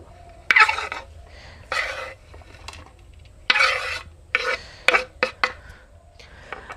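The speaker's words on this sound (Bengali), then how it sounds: "এবার আমি এটাকে পরিষ্কার করে ধুয়ে নেব" About 250 grams of chopped mushrooms being washed clean by hand, giving short rubbing and sloshing bursts at an irregular pace, close-up with quiet gaps between them and no speech.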